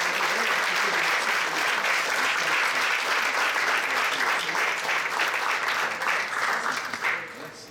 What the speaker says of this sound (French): Et là, on applaudit.